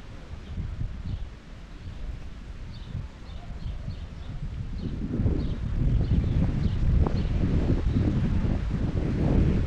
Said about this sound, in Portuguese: Mesmo tendo vento, né, ventando bastante, tendo um friozinho.